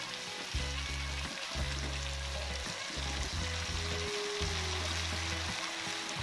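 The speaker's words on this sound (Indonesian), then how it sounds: "kita aduk-aduk semuanya sampai tercampur rata" Oyster sauce and sweet soy seasoning stirred in a Teflon pan, sizzling steadily with soft scraping of the spoon under a low mechanical hum, fairly quiet and close.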